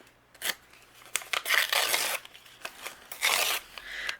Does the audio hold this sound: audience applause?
no